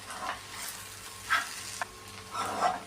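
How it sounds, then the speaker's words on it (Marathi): Fresh grated coconut fries in a pan for an onion-coconut egg masala, making a soft, continuous sizzle broken by several louder scraping stirs at irregular intervals, with no talking. "ओलं खोबरंही चांगलं परतून घ्यायचं"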